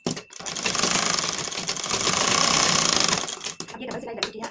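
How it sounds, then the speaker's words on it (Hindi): A sewing machine runs a double seam on a lined blouse, a loud close whirring burst lasting several seconds that stops abruptly, followed by small handling clicks. "अब हम इसमें डबल सिलाई लगा लेंगे।"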